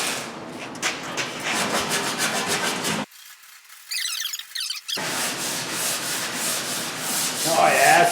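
Sandpaper rubs steadily over the hood of a Farmall Super M tractor during paint prep, a loud continuous rasping scrub that breaks off briefly midway, then resumes with quicker strokes.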